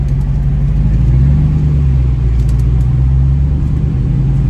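A Jeep Wrangler Rubicon 392 on massive tires during a drag race run gives a loud, close, continuous deep engine rumble with a steady low tone.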